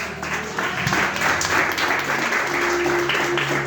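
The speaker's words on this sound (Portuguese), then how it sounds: "Quem crê, aplauda o Senhor." A church congregation at a family worship service applauding together, dense steady clapping throughout with a faint murmur of voices underneath.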